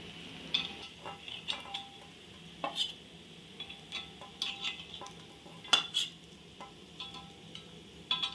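Sweet rava appe lifted one by one out of an appe pan, giving a string of light metallic scrapes and clicks of a utensil against the pan over a faint sizzle, with no talking.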